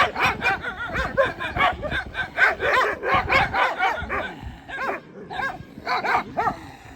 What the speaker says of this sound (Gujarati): કૂતરાની ફાઇટ તો જુઓ.